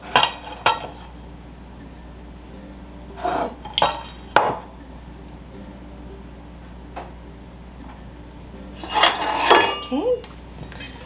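Bread ingredients and salt being mixed in a bowl, giving a few scattered clinks and scrapes of a utensil against the bowl, with quiet gaps between bursts and a busier flurry of knocks near the end.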